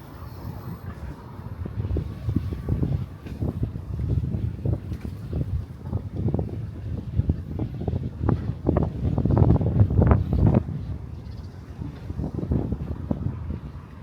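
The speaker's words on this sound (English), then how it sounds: "Walking right into the wind." Wind buffets the microphone while someone walks along a Brooklyn street on a hot day, a steady low, gusty roar that rises and falls throughout with no talking.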